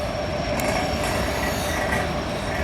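A train rolls past a railroad crossing on a line running toward Conneaut, a continuous loud rumble of railcars with a faint high wheel squeal riding on top and no talk.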